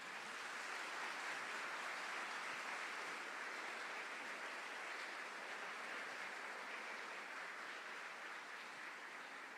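Congregation's applause welcoming a cardinal and priests at a Catholic Mass on Saint George's Day, a faint, steady, distant wash of clapping filling the church with no speech.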